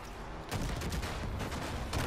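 A loud explosion in the Far Cry 5 video game erupts into a dense, rumbling burst of blasts and crackling gunfire-like bangs that fill the whole stretch, with no talk over it.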